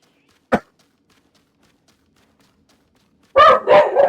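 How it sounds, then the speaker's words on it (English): Dogs bark indoors: one sharp single bark, a few seconds of near silence, then a louder burst of several rapid barks close to the microphone. "Probably hear the dogs barking."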